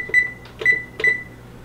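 Kitchen oven timer being set, giving three short electronic beeps spaced about half a second apart, close and clear over a faint background hum.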